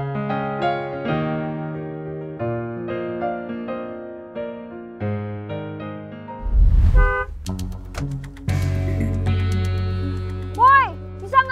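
A car horn honks on a street at a red light, sustained tones rising over background music and a brief low rumble.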